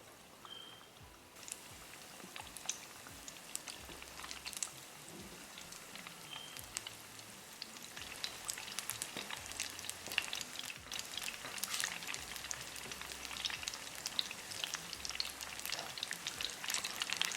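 Fish pakoras frying in hot oil, a steady crackling sizzle with scattered sharp pops that grows slightly denser over time, close and fairly quiet, with no voices.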